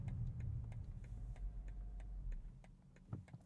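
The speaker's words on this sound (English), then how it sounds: "What about the turn signal sound?" Turn signal of a 2024 BMW X5 M Competition ticking inside the cabin, a steady run of soft, evenly spaced clicks over a low engine hum.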